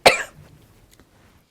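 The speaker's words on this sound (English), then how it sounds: "I'm now going to cough as well." A single sharp cough bursts out close to the microphone in a sewing studio, followed by a softer, brief throat clearing and then near silence.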